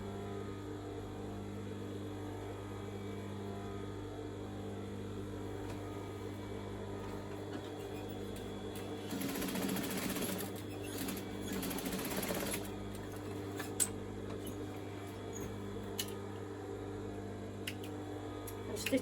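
Sewing machine stitching in the ditch of a trouser seam, a steady mechanical hum with a faster, louder burst of stitching in the middle, alone without talk.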